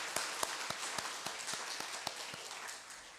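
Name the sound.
congregation clapping hands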